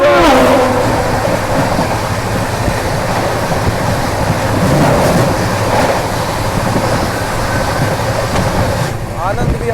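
Simanchal Express passenger train on the Anand Vihar–Jogbani route rumbling past on Indian railway track, a loud continuous roar of wheels and carriages close by, fading toward the end.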